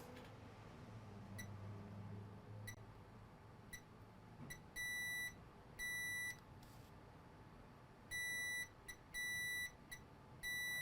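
A multimeter in diode mode, used in a Nintendo Switch repair, gives short beeps and several longer steady tones in irregular bursts over a quiet background, close and clear with no speech.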